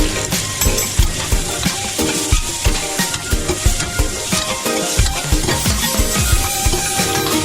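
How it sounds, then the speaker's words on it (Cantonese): Roast pork is stir-fried in a hot wok for a casserole fish head pot, giving a loud sizzle with rhythmic spatula scrapes and clanks against the metal, up close and with no talking. "咁啊，將啲燒肉抌埋落去，"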